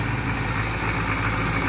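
A 1960s backhoe tractor engine runs with a steady, low, throbbing drone, close and loud throughout the brief moment, with no voices over it.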